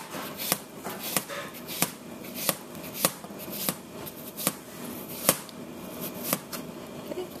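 A knife slices peeled apples thin for an apple pie, each cut a crisp tap on the board, repeated at a steady, fairly quick rhythm, close and clear with a faint room hum.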